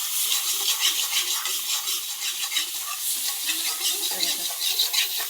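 A thick masala paste roasts in a pan under constant stirring, a close, steady sizzle broken by scraping and stirring strokes that keep coming at a brisk rhythm, with no voices.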